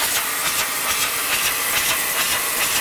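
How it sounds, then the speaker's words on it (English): An air cleaner with a deionizing system on a Kalish Kalisort 100 automatic bottle unscrambler gives a loud, steady airy hiss with faint rhythmic clatter of bottles moving underneath. "you'll see there's a little air cleaner with a deionizing system"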